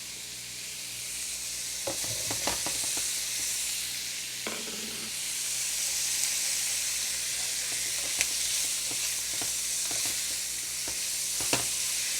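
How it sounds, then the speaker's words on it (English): Steady sizzling and crackling of sausage frying in a hot skillet, with occasional scrapes and pops, close by and continuous without talk. "we just want to fry all that up"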